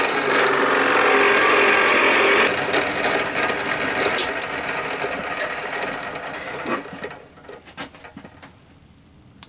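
An inch-wide, half-inch-deep entry hole is bored into wood with hand tools for a rounder plane: loud continuous rasping and scraping that gradually fades, broken by a few sharp ticks near the end.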